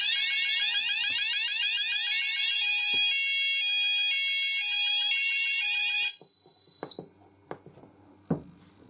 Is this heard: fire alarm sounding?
yes